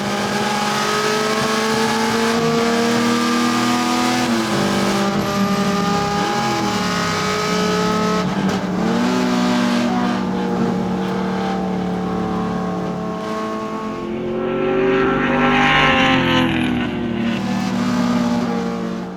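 A loud LS7-powered Chevy Camaro race car engine roars and revs hard on a track, shifting through gears as it accelerates, with faint tire noise and no talking.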